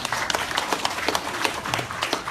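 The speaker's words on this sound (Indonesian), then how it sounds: "Tepuk tangan buat Mas Salman." An audience claps at a religious gathering held in a private home, producing a short burst of brisk, fairly close applause with distinct individual claps.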